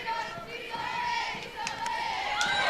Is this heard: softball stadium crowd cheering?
yes